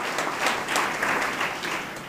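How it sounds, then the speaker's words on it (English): Audience applause at a community college event, a dense, steady wash of many hands clapping together at a moderate distance, with no talking. "So give Norma another round of applause."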